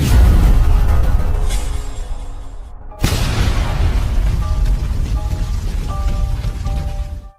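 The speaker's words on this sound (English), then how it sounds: "A violent explosion gives Zirin a headache" A sudden, powerful blast cuts through a steady roar of rumbling noise, then a dense, loud wash of sound keeps going after the impact.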